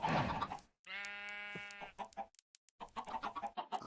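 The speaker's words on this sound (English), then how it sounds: "We're just throwing some chickens into our little pen." Chickens in the video game Minecraft, placed into a small pen, give a short burst of harmonic clucking and squawking between moments of speech-like chatter, moderately loud and close.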